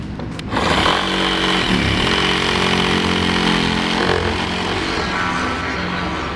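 A chainsaw runs loud and steady near at hand, chewing continuously through a boat's hull on a riverbank by the Seine, with a brief quieter start before the full cutting roar.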